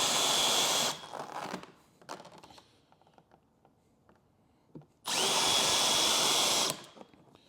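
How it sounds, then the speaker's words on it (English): A power drill with a 30mm bit marking holes in a Harley Davidson bag, running in two loud sustained bursts about two seconds each, separated by quieter handling clicks and taps. "we're just going to take our drill"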